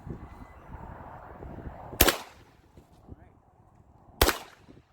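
300 AAC Blackout rifle from a Palmetto State Armory build firing Remington 220 subsonic rounds at an outdoor range, with two sharp, close shots about two seconds apart over a low background rumble.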